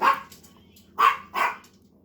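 A dog outside barks three times, sharp and moderately near, with short pauses between the barks over a quiet background.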